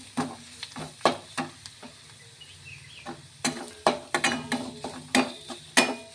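Roasted radish being stirred in a pan over medium heat, with a spoon scraping and clinking against the pan in irregular strokes over a soft sizzle, close and without talk.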